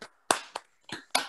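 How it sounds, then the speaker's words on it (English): A few scattered claps from an online audience after a reading, five sharp isolated hand claps spaced irregularly with silence between, close and dry. "If you want to unmute and applaud, you can please feel free."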